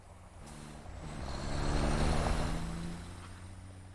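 A truck drives in the factory-building video game Satisfactory, its engine a steady low rumble with tonal hum that swells gradually to a peak midway and then eases off slightly, heard alone without talk.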